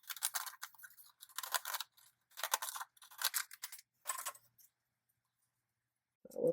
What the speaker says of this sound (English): I'm going to use one of these pairs of scissors